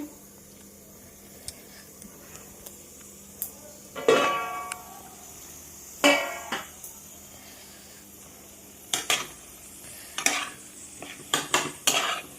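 Home cooking of dal, ridge gourd and potato with poppy seed, with scattered clinks and scrapes of a utensil stirring in a metal pot over a faint steady sizzle, in separate bursts with quiet gaps.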